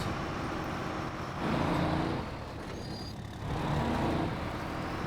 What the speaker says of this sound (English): Grabbing a scout or a big truck and literally just cruising around without a care in the world.